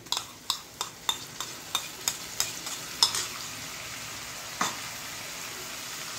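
A blended paste of ginger, garlic, dry chillies and garam masala sizzles in a pan for chicken curry, while a spoon scrapes and stirs it in a quick regular series of sharp taps. The sizzle then settles into a soft steady hiss.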